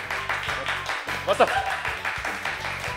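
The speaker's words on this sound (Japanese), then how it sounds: "拍手。" A short burst of hand clapping breaks in amid talk at an anime announcement, a few quick claps heard among spoken voices.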